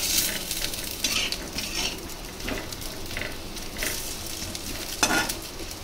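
Fried chicken 65 tossed dry in a hot pan, a steady close sizzle and frying hiss with occasional scraping stirs and light pan clatters throughout, no voices.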